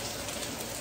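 Steady rain falls outdoors on a rainy Thursday morning, a dense, even hiss of drops holding at one level throughout with no voices.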